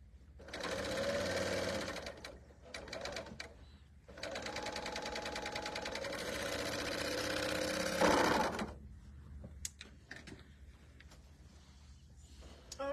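A Bernina L890 serger stitches quilt pieces in fast, loud whirring bursts: a short run, a brief stutter, then a long sustained run that stops, followed by quieter handling sounds.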